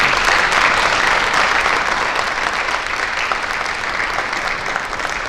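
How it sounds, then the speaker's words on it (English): Applause from a luncheon audience at a conference awards and closing session, loud and continuous clapping from a sizable crowd that fades slightly toward the end. "So one round of applause for all of them."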